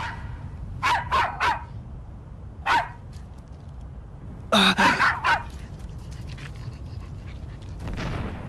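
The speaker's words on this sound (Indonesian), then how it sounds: "Suara gonggongan itu." A dog barks in short bursts, a few single barks then a tight cluster, moderately close, with quiet panting-like noise between and no talk.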